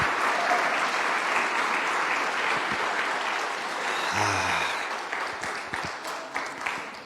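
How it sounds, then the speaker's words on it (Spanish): A church congregation gives dense, sustained applause, a broad roar of many hands clapping together that thins into scattered claps at the end. "les demos un aplauso de reconocimiento, de aprecio para todos ellos, pero muy fuerte ese aplauso de gratitud"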